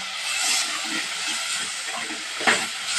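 Ground tomato paste sizzles in a hot pan with a steady, bright hiss and faint bubbling, and a short spattering burst rises near the end.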